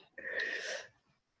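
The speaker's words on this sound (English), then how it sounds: "Got some guy in a stall doing really heavy breathing." Heavy, wheezy breath from a man in a public bathroom stall, one loud rasping exhale of about two-thirds of a second that fades out, heard alone.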